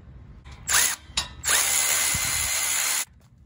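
Bolts on the subframe of a shop cart for a Kawasaki Ultra jet ski being tightened with a power tool: two brief close whirring bursts, then a longer steady run of about one and a half seconds, with no talk.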